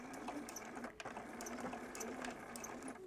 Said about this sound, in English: And I'm going to do a little back stitch.